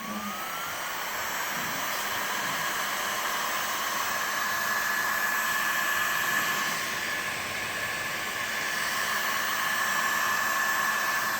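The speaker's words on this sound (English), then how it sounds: "I'm gonna come in and hit it with the heat gun" Steady, loud broadband blowing of a heat gun held over a poured epoxy resin tabletop, a continuous airy roar with a faint whine that runs unbroken and without talk.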